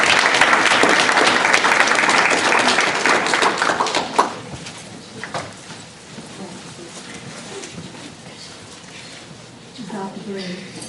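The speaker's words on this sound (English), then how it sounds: "So let's give them a round of applause." Applause at a school board meeting, loud and dense for about four seconds, then it breaks off abruptly and murmuring talk and room noise take over.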